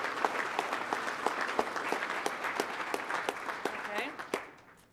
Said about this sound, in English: if you could all give Commissioner Knapp a round of applause